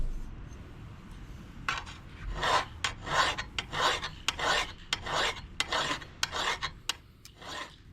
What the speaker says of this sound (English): we're going to see what we can get done with this file today